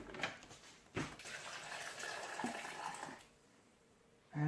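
Cold water is poured out while cornmeal porridge is being made, a steady splashing run of a few seconds that stops abruptly, leaving near quiet before a brief knock at the end.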